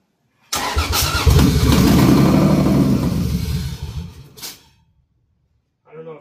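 A Toyota Supra with a swapped 2JZ engine cranks and fires, roaring loudly at close range for about three seconds before faltering and dying, then falling silent, with a brief voice at the end.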